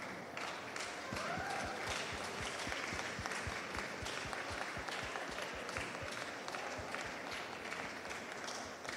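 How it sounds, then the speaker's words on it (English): An audience at a youth roundtable event claps in welcome for the Deputy President, a steady, moderately distant applause with individual hand claps audible throughout, fairly even in level from start to finish. "A warm round of applause,"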